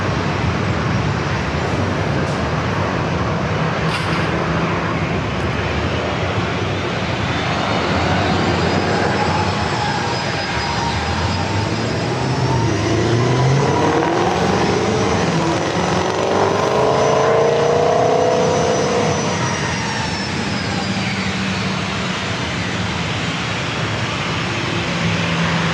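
A United airliner departs San Diego airport bound for Houston, its jet engines roaring loudly as it climbs away, with a rising and falling whine over a broad steady rumble and no talk.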